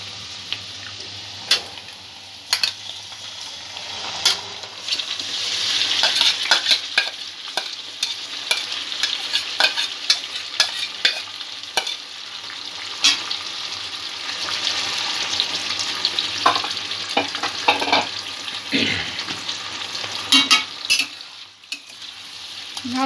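Marinated chicken tipped onto softened onions and fried for chicken kalia, a steady loud sizzle under repeated scraping stirs that runs the whole stretch with no talk.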